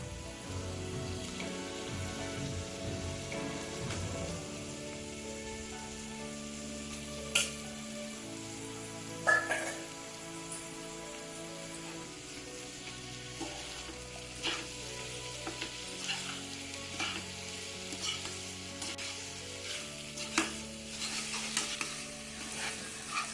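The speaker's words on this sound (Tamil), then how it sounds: "மசாலாலாம் நல்லா கறியில் மிக்ஸ் ஆகிற வரைக்கும் கிளறி விடணும்." Chicken pieces fry in a pan with chilli powder, turmeric and masala while being stirred, giving a steady close sizzle broken by occasional scraping and clattering of the spoon, with no talking.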